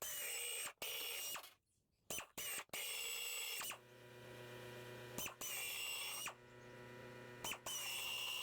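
Power drill driving screws into a wooden board for a flyball box, several bursts of whirring motor and ratcheting clutch separated by short pauses, close and fairly loud.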